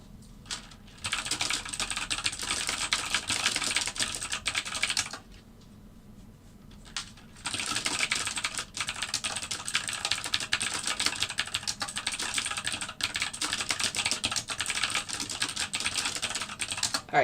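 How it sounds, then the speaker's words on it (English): Rapid, continuous clatter of typing on a computer keyboard during live futures trading, close and steady, with one short pause partway through and no talking. "sorry for all the typing"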